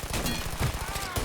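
Rapid gunfire from the video game Mafia 3, a dense run of closely spaced shots forming a loud, steady fusillade throughout, with voices and game sounds mixed underneath.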